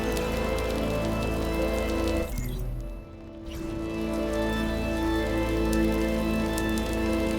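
In-game rain from Returnal pours as a constant hissing patter, briefly thinning and dipping in the middle before returning full and steady, heard alone without speech.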